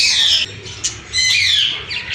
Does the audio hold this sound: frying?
no